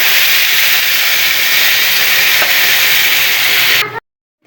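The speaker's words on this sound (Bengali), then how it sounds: "এখন পরিমাণ মতন জল দিয়ে দেবো" Water poured into a pan of sizzling fried masala for a jackfruit and prawn curry, a loud, close, steady hiss of steam and sizzle that stops abruptly near the end.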